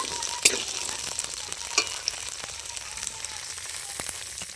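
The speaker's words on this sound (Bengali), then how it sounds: "বিনসটা কড়াই আমি দিয়ে দিচ্ছি খুব ভালো করে। এবার আমি ভেজে নেব।" Green beans frying in oil in a wok for a vegetable dish, a continuous close crackling sizzle with a couple of sharper pops and light stirring taps, no talking.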